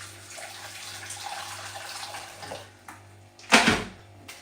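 Hot water poured into a vessel, a brief loud gush of running liquid rising near the end after a stretch of low background noise and a steady hum.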